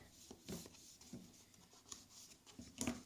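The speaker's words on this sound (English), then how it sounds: "I'm going to go in with my bone folder" A bone folder rubs along folded paper in a few soft, faint swipes and scratches, close up and quiet, with no talk.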